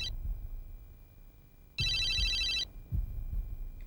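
A telephone rings out on a call: one bright electronic ring burst sounds clearly over a low background rumble, with the tail of a previous ring at the start. No talking.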